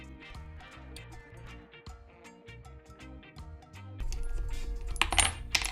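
Metallic clinks and ticks of an Allen wrench working the bolts on an electric skateboard's rear hub motor, a steady run of small close taps and rattles that grows louder and busier toward the end, with no talking.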